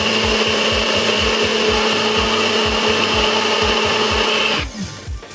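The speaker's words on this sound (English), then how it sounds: "next I'm going to do the same with my kiwi. And we're just going to puree this as well." Blender pureeing kiwi for yogurt popsicles, a loud close motor whir with a rhythmic chopping pulse that runs steadily, then winds down and stops near the end.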